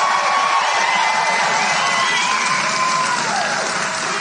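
A political rally crowd in Waukesha, Wisconsin, roars with cheers, whoops and applause, a loud, dense, continuous sound close up with no pauses.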